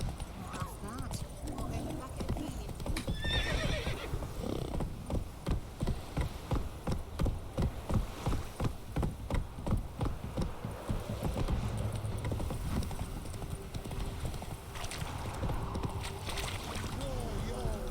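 Geralt's horse Roach in The Witcher 3 trots with a steady clip-clop of hooves, briefly neighing, under ongoing game music and talking voices throughout.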